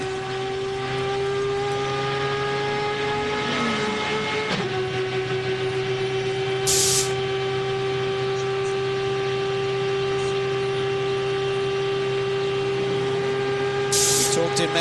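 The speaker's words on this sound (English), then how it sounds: "Now listen to this Mazda," A Mazda race car engine screams at a steady high pitch through a Rolex Sports Car Series Grand Prix of Miami, loud and sustained with a continuous droning whine across the whole stretch.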